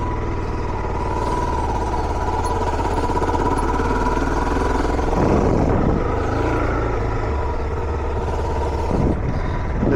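A 2025 Suzuki DR-Z4S motorcycle riding on a road, its engine droning steadily and loud throughout with a rough, buzzing mid-range tone and brief swells as the throttle is rolled on, mixed with wind rush.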